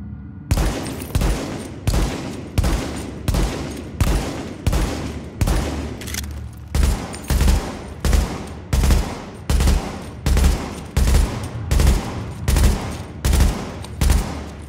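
Steady, evenly spaced gunshots from a rifle fitted with initial bullet stability mods in The Division, about two shots per second, loud and close with no talking.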